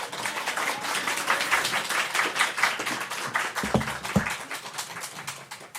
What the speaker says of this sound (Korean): 우리 목사님 나오실 때 우리 환영하는 박수 한번 하겠습니다.